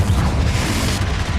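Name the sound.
spell explosion in the video game Hogwarts Legacy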